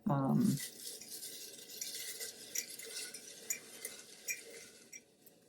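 Folded paper prompt slips are stirred and shuffled in a jar, a soft steady rustling and light tapping against the glass that runs for several seconds, following a brief louder thump at the start.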